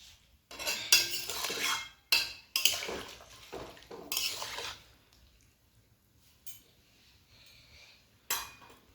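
Fish curry in a pot being stirred after hot water goes in, bursts of metal spoon clinks and sloshing liquid with quiet pauses between them, close by.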